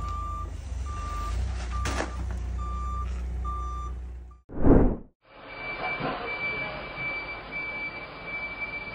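Regular reversing beeps pulse from a forklift over a low engine rumble, then a brief loud whoosh cuts in and a second, higher beeping tone continues on its own afterward.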